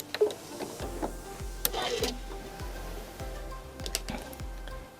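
A domestic home sewing machine stitches a row of quilted clamshells, with a rapid rhythmic needle thump and mechanical ticking in short bursts, up close with no voices.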